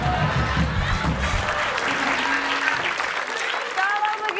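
A studio audience at a quiz show applauds loudly and steadily for several seconds, a thick wash of clapping with some crowd murmur and voices mixed in.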